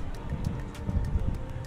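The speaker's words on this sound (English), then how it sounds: "Yeah, still windy, that's okay, no rain" Steady low rumbling wind noise buffets the microphone throughout, with faint higher clicks scattered on top.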